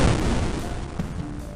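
Explosions boom in an online video game, a dense, close rumble of blasts and low thuds running through the brief stretch.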